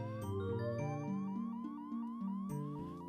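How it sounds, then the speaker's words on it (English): In the retro computer game Might & Magic: World of Xeen, a stuck synthesized note wails like a siren, rising in repeated sweeping steps over a sustained tone, echoing steadily and fairly loud with no talk. "What's the echoing siren you hear? It's part of the equip thing. It's just a stuck note."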